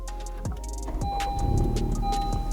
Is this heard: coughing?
no